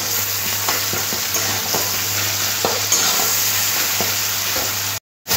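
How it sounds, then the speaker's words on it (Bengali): Chopped onion and tomato with salt fry in a pan, giving a steady, close sizzle with faint stirring clicks throughout before a brief cut near the end. "টমেটো আর পেঁয়াজটা খুব ভালো করে দেখুন ভাজা ভাজা হয়ে গেছে"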